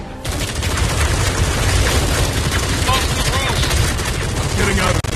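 Dense, loud gunfire from the video game Batman Arkham Shadow comes in a continuous rapid barrage of shots and booms, with voices faintly mixed in.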